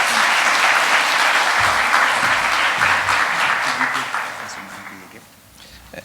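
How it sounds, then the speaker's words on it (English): Audience at a conference session clapping for a professor, a full, steady round of applause that gradually fades out, with a few voices audible underneath as it dies down. "applause for Professor."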